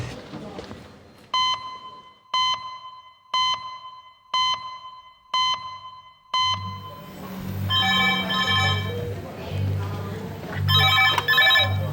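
The HEMS red phone rings in a hospital A&E department, six evenly spaced electronic rings about a second apart, followed by busy ward noise and voices talking.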